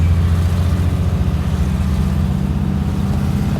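A 1970 Mercedes-Benz 280SE on a test drive, heard from inside as a loud, steady low engine drone with road rumble that holds even throughout.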